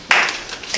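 Brief scattered clapping from a small audience at a poetry reading in a living room setting in San Francisco; a short burst of claps starts abruptly, then thins to a few faint stray hand claps.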